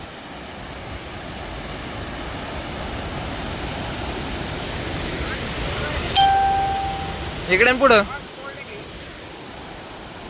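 Steady roaring rush of water from a dam release at Nathsagar, Paithan, fills the whole clip, with brief voices and a short electronic tone near the end.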